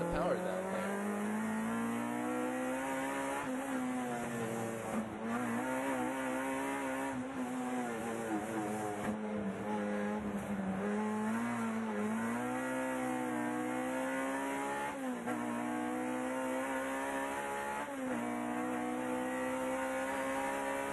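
Red Honda touring race car in a US Touring Car Championship race struggling for grip under power, engine droning loudly and continuously with squealing, slipping tires, while commentary talks over it throughout.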